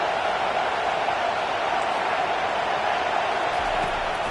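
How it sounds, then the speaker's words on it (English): A stadium crowd at a Penn State football game roars as a steady, dense wall of noise without clear peaks. "Listen to this crowd just shaking the girders of this place"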